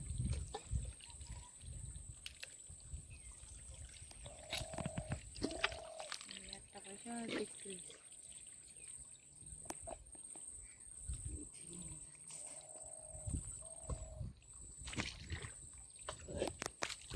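Water sloshes and trickles as a basket is pushed through shallow water to catch shrimp in the Sundarbans, a faint, uneven wash under ongoing outdoor talk.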